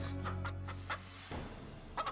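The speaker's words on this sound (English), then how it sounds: "Stupid chicken, he's back for seconds." A chicken clucks in short, separate bursts over a low steady hum, close and fairly loud, with no voices.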